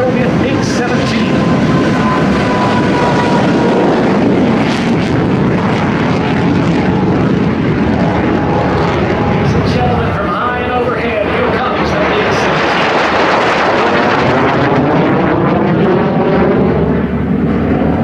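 A Soviet MiG-17 jet roars loudly through its takeoff roll at an air show, its engine noise rising in a dense, sustained rumble while an announcer talks over it.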